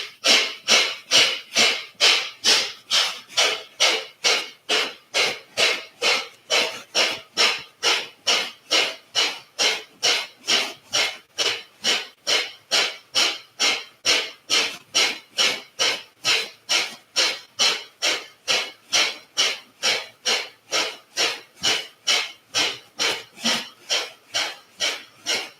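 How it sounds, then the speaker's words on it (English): Kapalabhati yoga breathing during a morning session: a long run of sharp, forceful nasal exhalations at an even, rapid pace, close and distinct, with no talk. "going to do one more round of Kapalabhati"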